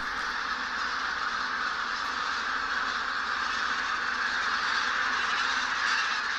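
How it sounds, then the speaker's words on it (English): A large flock of wild bean and white-fronted geese on spring migration in the Barycz Valley keeps up a dense, continuous chorus of honks and cackles at a middle distance, with no talk. "flocks of wild geese have arrived from the warmer parts of Europe, where they have spent the winter"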